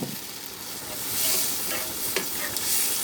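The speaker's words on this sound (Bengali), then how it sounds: "দেখেন আমার মশলাটা কত সুন্দরভাবে কষানো হয়ে গেছে, একদম ভাজা ভাজা হয়ে গেছে" Well-cooked spice paste frying in a pan for a potol gravy, a dense close sizzle with a few stirring scrapes, rising slightly midway.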